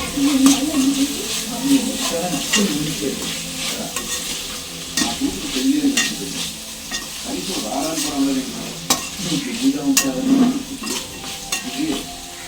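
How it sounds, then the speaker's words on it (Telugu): Ginger-garlic paste, ground masala and coriander powder sizzle and fry in a pot while a utensil stirs and scrapes through them, with loud irregular clinks and scrapes over a steady hiss. "అల్లం వెల్లుల్లి పేస్ట్ ఫ్రెష్గా నూరు పెట్టుకున్న మసాలా ధనియాల పొడి వేసుకుని ఒకసారి మిక్స్ చేసుకుందాం"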